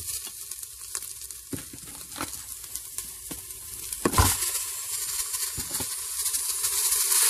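Minced beef sizzling and frying in the bowl of a Cookeo multicooker after onions have caramelised, a steady close hiss that swells louder toward the end, with a few soft knocks from handling.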